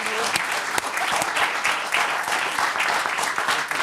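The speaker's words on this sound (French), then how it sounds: "Vous pouvez les applaudir." A studio audience on a televised football talk show bursts into dense, steady applause, with sharp individual claps standing out near the microphone and a faint voice underneath.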